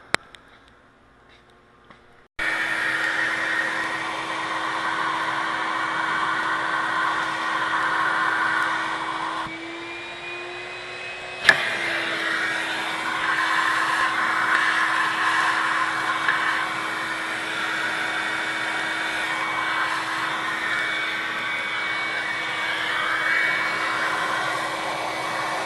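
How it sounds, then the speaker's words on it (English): A vacuum cleaner runs steadily for a long stretch, drawing debris out of a GM 3.4 liter engine, its whine dipping briefly midway before surging back to a loud, continuous roar with no talk over it. "So now I'll get the vacuum cleaner and suck all that junk out of there."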